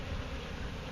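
Honey bees droning in a dense, continuous buzz throughout a bee removal in Wellington, Florida, loud and close with no other sound.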